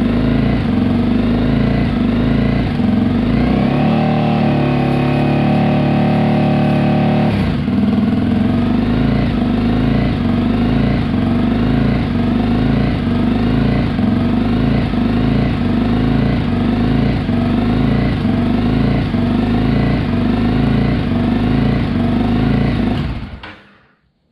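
A Honda CBR 300R motorcycle engine running steadily up close, loud and even, with a brief rise in pitch near the start, before it cuts off at the end.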